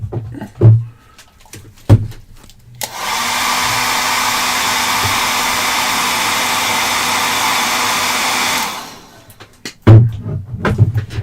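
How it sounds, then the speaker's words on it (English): A hair dryer drying paint on a painted miniature runs loud and steady for about six seconds as a constant whooshing drone, with brief handling knocks before it starts and after it stops. "Give that a hair dry because I need a second coat."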